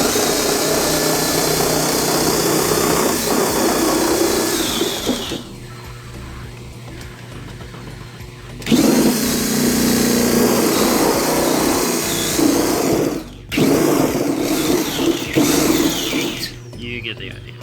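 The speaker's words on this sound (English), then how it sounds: "So we'll use the Sawzall and start with it." A Sawzall reciprocating saw cuts into a shower during demolition, buzzing loudly and continuously in long bursts with short pauses between cuts.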